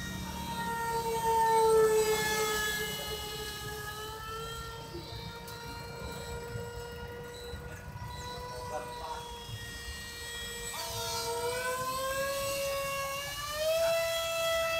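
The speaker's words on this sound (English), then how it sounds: "I could somehow go flying this F-15 over and over and over again the whole day." RC F-15C Strike Eagle model jet flying, a high whining ducted-fan tone rising and falling in pitch as it passes, loud and sustained.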